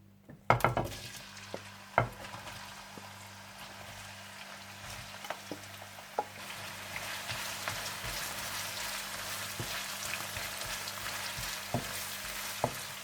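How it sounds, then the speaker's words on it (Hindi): Onions sizzle steadily in hot oil while turning golden brown for keema karahi, with sharp clinks of a utensil against the pan now and then. "सबसे पहले आप तेल डाल लें और इसमें प्याज डालकर इन्हें हल्का सा गोल्डन ब्राउन कर लें।"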